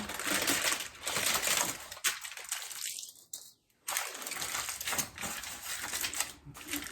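Ribs being folded into a foil packet: loud crinkling and crumpling of foil up close, in rustling bursts with a short quiet gap in the middle.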